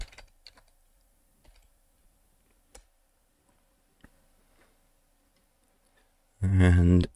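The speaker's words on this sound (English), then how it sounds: "here we type install." Sparse, faint clicks of a computer keyboard typing an install command for T2 Linux on a PlayStation 3, followed at the very end by a sudden loud, brief voiced burst.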